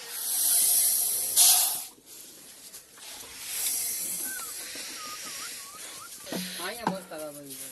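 A lemon soda machine at a roadside stall lets out a loud, sharp hiss for about a second while filling a drink, then fades under general chatter, with people talking near the end.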